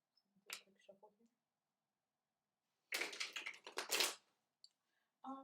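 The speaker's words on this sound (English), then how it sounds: "So do a quick shuffle here." A tarot card deck being shuffled gives quick papery riffles and snaps in two short bursts separated by quiet, faint and close, with a little speech around them.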